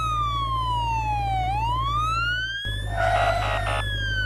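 A police car siren wails in a long falling then rising sweep, followed by a brief burst of a different warbling tone, loud over a steady low engine hum.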